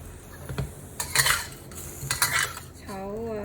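Metal cooking pots clank and scrape on the stove as they are swapped for braising lamb, several sharp knocks and rattles with a faint sizzle, ending in a brief tonal whine.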